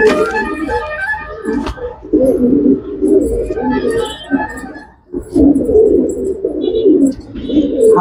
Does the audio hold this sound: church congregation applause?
no